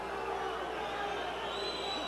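A Mexican-American crowd at a boxing match cheers in a broad, continuous roar that swells slightly, heard at a distance beneath an announcer's talk.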